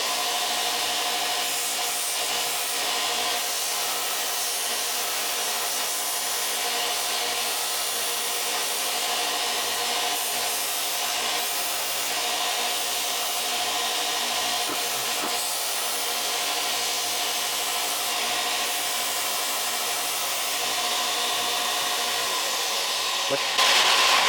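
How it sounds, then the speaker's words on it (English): A belt sander grinds down a rifle recoil pad set in a grinding jig, a steady loud abrasive whine and rasp running continuously and close up, with slight shifts in pitch as the pad is pressed against the belt. "Now I'm going to switch to the belt sander, where I have a bit more control."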